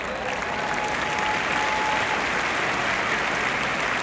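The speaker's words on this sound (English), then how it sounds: "Give him an enormous applause." A large concert audience in New York, at an orchestra show, breaks into dense, sustained applause that stays loud and even throughout, a steady wash of clapping from a big crowd.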